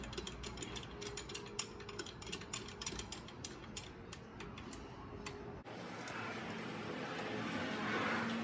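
Ratchet clicking in rapid, repeated strokes while tightening the serpentine belt on a 2010 Toyota Corolla 1.8 L, faint and close, followed by a shift to a hissy, noisier background.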